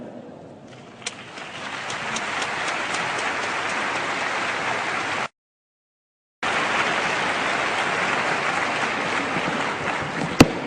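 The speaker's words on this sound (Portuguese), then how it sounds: "La vamos a recibir con un aplauso" Sustained applause from a conference audience welcoming a speaker, a dense steady patter of many hands filling the room, broken by a short silent gap before the clapping resumes.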